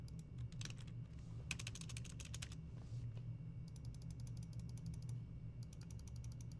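Mouse clicks and keyboard taps on a computer whose terminal has frozen during an SSH session, coming as rapid bursts of crisp clicks with short pauses between them over a steady low hum.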